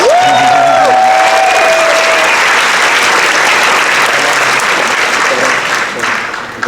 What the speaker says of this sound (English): No, clap for it